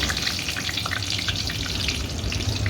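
Dried red chillies frying in hot mustard oil with bay leaves in a pan, a dense steady sizzle and crackle throughout, close and loud with no talk.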